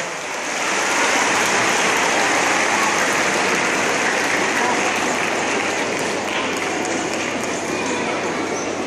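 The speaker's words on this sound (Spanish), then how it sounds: "Mire eso, más fuerte los aplausos." A church congregation applauds loudly, a dense wall of clapping that swells in within the first second and holds steady and strong throughout.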